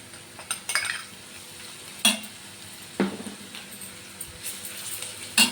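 Ginger garlic paste sizzles quietly in a frying pan while a utensil stirs it, with a few sharp metallic scrapes and clinks against the pan over a steady low frying hiss.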